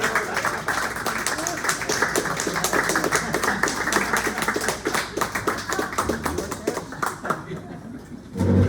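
Warm audience applause fills a bookstore after a poetry reading, with dense, steady clapping from a small crowd that runs several seconds and then thins and fades as a voice begins to speak.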